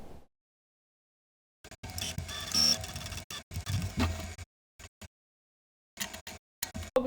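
A sewing machine stitches a dress seam in several short bursts of whirring mechanical clatter separated by silent pauses, heard up close.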